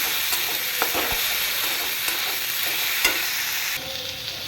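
Ginger garlic paste frying in a pan while being stirred, a continuous close sizzle broken by a few light scrapes and taps of the spoon against the pan, with the hiss easing slightly near the end.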